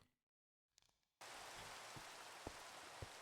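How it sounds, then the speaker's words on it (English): Rain falls in a Minecraft modpack game, starting abruptly after a short silence and then holding as a steady hiss with a few soft drop-like ticks. "for some reason it's decided to start raining just as I was about to kick things off"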